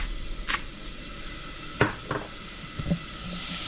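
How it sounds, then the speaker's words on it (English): Diced onion sweats with salt in a hot pan for stuffed peppers, giving a faint, steady sizzle and hiss with a few soft clicks and stirring taps scattered through it. "I might add one more crack of salt to help sweat the onion."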